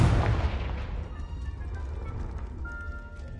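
A Confringo spell blasting a brazier in the PS4 game Hogwarts Legacy. One heavy boom hits at the start and then decays into a long, fading rumble.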